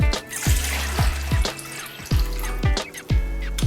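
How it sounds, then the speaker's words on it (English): Water runs into a bowl with a steady splashing flow, punctuated by regular low thumps, close and moderately loud, no talking. "take your bowl and fill it with water"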